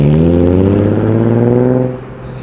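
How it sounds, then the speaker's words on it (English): A Nissan pulls away from a car show at Penrith with a loud, rising engine note as it accelerates, close at first and then dropping off as it moves away. "There goes the Nissan"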